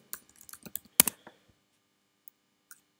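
Keys clatter on a computer keyboard while an article is typed, a burst of quick close clicks over the first second and a half, then a couple of isolated taps in near silence.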